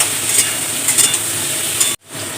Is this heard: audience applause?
no